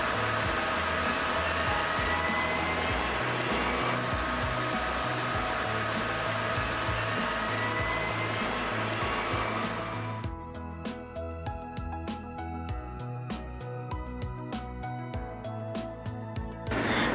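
An LBOX-SD40W CO2 laser engraver runs a cut. A steady loud fan and motor hum changes about two thirds of the way through to a rapid series of sharp ticking pulses from the moving laser head, with the drone continuing underneath.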